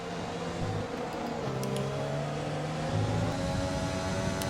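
Formula 1 car engine in the F1 2020 racing game at the Japanese Grand Prix, a steady droning whine that shifts pitch as gears change, with other cars audible around it throughout.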